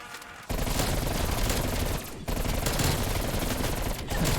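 Rapid automatic gunfire from a weapon in Call of Duty: Black Ops Cold War, loud and dense, in three sustained bursts split by two brief pauses.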